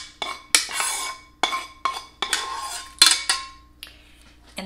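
Sautéed onions scraped from a metal pan into a bowl, a series of sharp clanks and scraping clinks of utensil against pan, close and fairly loud with no talking.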